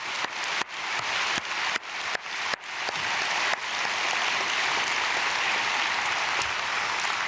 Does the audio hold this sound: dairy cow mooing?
no